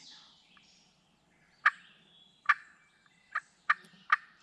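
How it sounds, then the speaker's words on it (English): Wild turkey gobbling during a Vermont turkey hunt, five loud, sharp gobbles spaced irregularly over a few seconds, fairly close, with a quiet low background rumble between them. "You can hear him drumming. He's right there."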